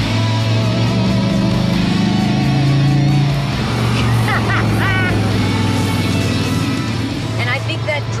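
A 1972 De Tomaso Pantera's combustion engine while driving, a loud, steady low drone with shifting pitch as it runs on the road, continuous throughout, with people talking over it.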